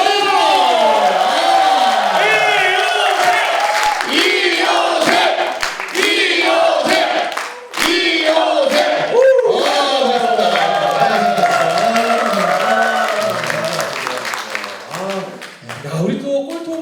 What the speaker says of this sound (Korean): 여러분 이효셉 소장님 큰 박수로